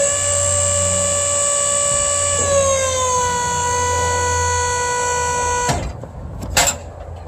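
Hydraulic landing gear on a trailer with a Bulldog automatic coupler, raising with a loud, steady electric-pump whine that drops slightly in pitch midway, then cuts off abruptly, followed by a couple of clunks.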